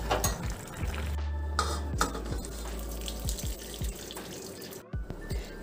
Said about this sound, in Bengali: জলটা ছেঁকে নেব।